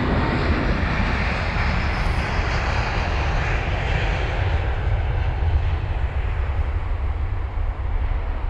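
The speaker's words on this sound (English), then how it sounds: "That A350 goes" An Airbus A350 departs London Heathrow with a loud, sustained jet-engine roar that fills the whole stretch, steady and powerful, with no talking over it.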